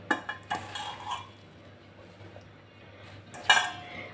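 Soaked soybean chunks dropped into a steel mixer jar, giving a few close clinks and knocks near the start and a brighter metallic clatter toward the end, with quiet between.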